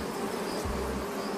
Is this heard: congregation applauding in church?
no